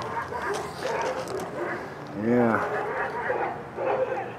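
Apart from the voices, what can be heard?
dogs barking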